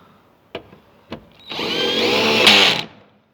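A power screwdriver whirs briefly while driving screws into a Fiat Fiorino door panel, after two sharp knocks, a rising motor whine lasting about a second and a half, then stopping; close and loud with no speech.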